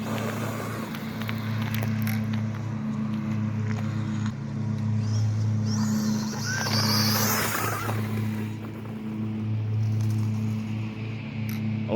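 A Losi Promoto MX 1/4 scale RC motorcycle accelerates, its electric motor giving a steady low whine with rising surges while it is throttled through turns and skids out of control on grass, continuous and fairly close throughout.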